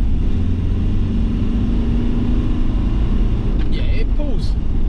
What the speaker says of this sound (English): And now going uphill, third gear.